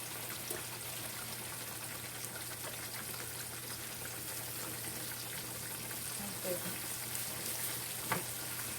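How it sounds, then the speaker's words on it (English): Thick pieces of steak fry steadily in a pan at moderate heat, a dense, even sizzle running the whole time with a few faint clinks and pops near the end. "You don't want to fry it too high, because the steak is kind of thick."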